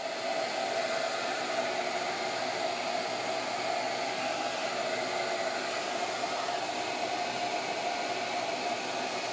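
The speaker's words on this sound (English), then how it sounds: "Origin works just like a standard plunge router" A Shaper Origin handheld router cutting a pocket roars with a loud, steady, broadband whine that holds without a break from start to finish.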